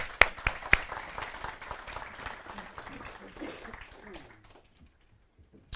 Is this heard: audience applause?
yes